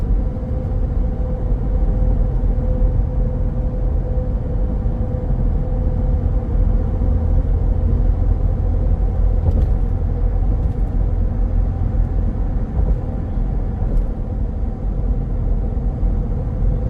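Steady low road rumble and tire noise from a moving 2026 Ford Expedition Platinum 4x4 SUV, constant and fairly quiet, with no talking.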